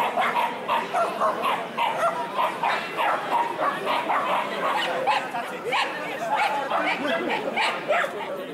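Dogs at a dog show bark, yip and whimper in a dense overlapping clamor, with human chatter mixed in throughout.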